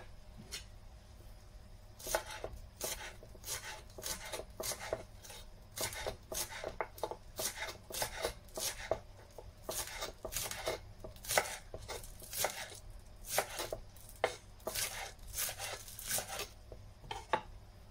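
A knife chops green onion, garlic and shallots on a board, a long series of crisp, close knocks in quick irregular bursts against a quiet background, with no speech.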